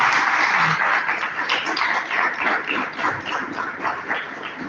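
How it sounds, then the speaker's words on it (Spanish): An audience at a class applauds loudly, with dense, continuous clapping that stays strong throughout and tapers slightly toward the end. "Un aplauso para todos los que pasaron."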